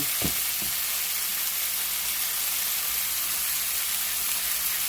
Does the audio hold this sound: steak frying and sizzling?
yes